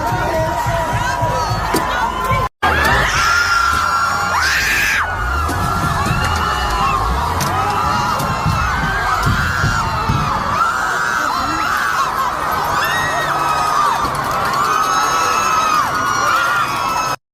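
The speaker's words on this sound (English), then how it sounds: "Protesters can be heard screaming as the truck makes its way through the crowd." A crowd of protesters screams and shouts as a truck pushes through them, a loud continuous mass of overlapping yells and shrieks with scattered bangs, sustained throughout and close at hand.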